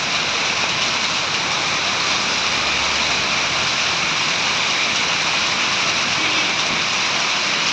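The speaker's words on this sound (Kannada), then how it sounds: "ಫುಲ್ ಮಳೆ" Heavy rain roars steadily and loudly at Damachandra Circle in Bangalore, a dense, unbroken wash of water noise over a flooded road.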